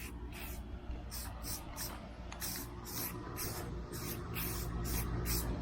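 A light coat of spray paint hisses onto a car body in a run of short rhythmic bursts, close and steady, with no talking.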